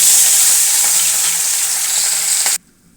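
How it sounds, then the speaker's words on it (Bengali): Salted, turmeric-rubbed fish sizzle loudly and steadily in hot oil in a wok, a close, dense frying hiss that cuts off abruptly near the end. "ফিশ কপি করার জন্য আমি প্রথমে মাছগুলো হালকা করে ভেজে নেব।"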